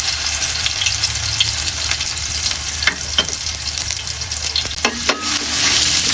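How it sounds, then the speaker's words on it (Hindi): Crushed ginger, garlic and green chilies sizzle and crackle steadily in a hot pan for a fish curry, with a few soft clinks of stirring up close and no voices. "अब इसको हल्का हल्का फ्राई करेंगे, बहुत ज़्यादा इसको जलाना नहीं है।"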